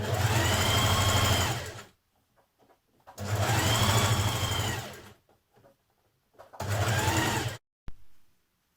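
A sewing machine sews a coat sleeve seam in three loud, close bursts of even whirring, each a second or two long, separated by short quiet gaps with faint fabric rustles and a sharp click near the end.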